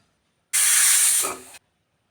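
A pressure cooker on the stove, cooking green bananas with water and salt, lets off one sharp steam whistle: a loud, bright hiss lasting about a second that tails off quickly into silence.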